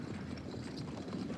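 Rapid, dense hoofbeats rumble in a continuous clattering rhythm, like horses galloping close by, fairly faint and without voices.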